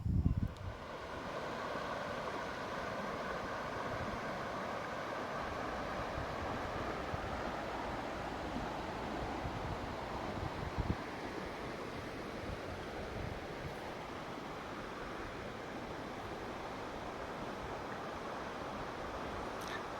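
The River Bonnet in Ireland rushing steadily near Dromahair, a broad continuous roar of flowing water with some wind buffeting on the microphone, unchanging for the whole stretch and without talk.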